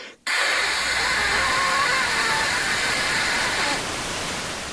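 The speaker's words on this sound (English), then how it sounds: "it outputs white noise. So technically it does have sound, but it's fucking static." Steady broadband white-noise static from the LJN Video Art game, loud and continuous for several seconds after a brief silent start, easing slightly in level near the end with no speech.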